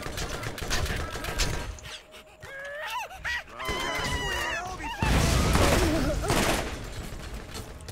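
Gunfire from a gun in Borderlands, rapid bursts of shots in two dense clusters separated by a quieter gap, loud and near, with voice-like sounds mixed in the middle.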